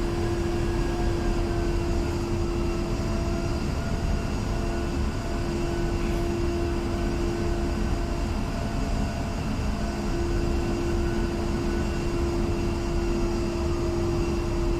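A jet aircraft in the DCS World flight simulator taxis on the Marianas map, its engine holding a steady, loud whine and rumble with a constant tone throughout, and no voices.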